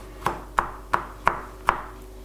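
Five sharp knife chops through garlic on a cutting board, evenly spaced about a third of a second apart, close and crisp with no talking.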